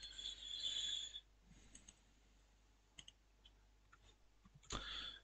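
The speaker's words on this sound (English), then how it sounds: "Roll 2 dice." Two dice rolled for a Fighting Fantasy gamebook, heard as a short burst of rattling followed by scattered light clicks and taps, then a second rattling burst near the end, fairly quiet with no talking.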